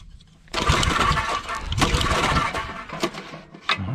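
A Roto-Hoe tiller engine on full choke and full throttle is pulled over and catches at about half a second, then runs loud and rough with uneven surges and sputters and no talk.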